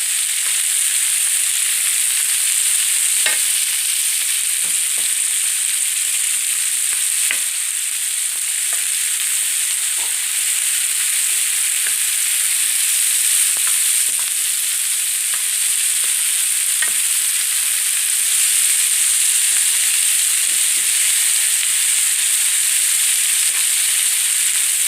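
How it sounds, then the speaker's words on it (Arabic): Onion and pepper sautéing in a pan ahead of lamb liver, giving a loud, steady sizzle and hiss throughout, with occasional faint stirring scrapes and no talking. "فانا هنزل اشوح معايا البصله والفلفلايه الاول كده شويه، وبعد كده هنزل بالكبده"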